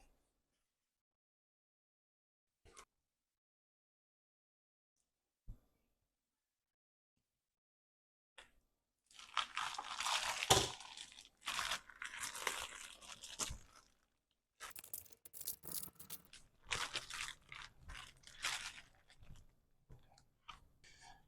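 Gloved hands work through a pellet-smoked overnight brisket, giving loud, wet crunching and tearing of the bark and meat in dense bursts after a few faint isolated taps, with no talk.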